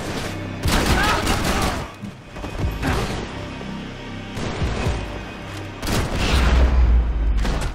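Gunfire in the Max Payne 3 video game: heavy bursts of shots and booms hit in clusters at a close, loud level, with a low rumble between volleys and faint voices mixed in.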